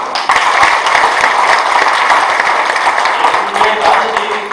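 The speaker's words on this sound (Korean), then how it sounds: "조합원님께 큰 박수 부탁드립니다." Delegates and members at a livestock cooperative's annual general meeting in Korea give loud, sustained applause, dense clapping holding steady throughout with no pause.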